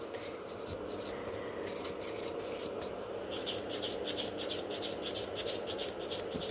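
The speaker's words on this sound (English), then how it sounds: "buff this one and the thumb" A 100/180 grit buffer rubs steadily across a fingernail at a salon, a close, continuous scratchy rasp with quick repeated strokes and no talking.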